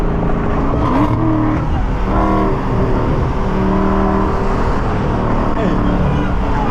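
A Dodge Hellcat Redeye, a 1000 hp car, drives at night with a loud, steady engine roar and rumbling low drone, while people talk excitedly over it.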